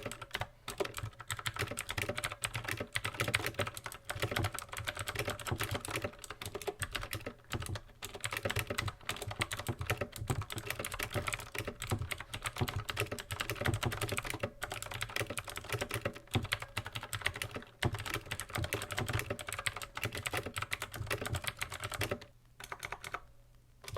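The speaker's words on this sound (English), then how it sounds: "let's do a sound test" Continuous fast typing on a Redragon K552 TKL mechanical keyboard, a steady close clatter of key presses that runs almost without pause for over twenty seconds at moderate loudness.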